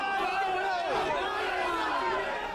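A large crowd of party workers gathers at Shiv Sena Bhavan, where several voices overlap loudly in dense chatter and shouting throughout.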